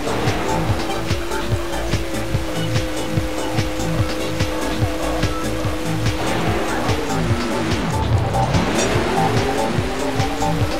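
A race car in the video game Hot Wheels Velocity X drives with a loud, continuous engine drone and a rhythmic pulsing pattern, then gives a sweeping dip-and-rise whoosh near the end, with no talking over it.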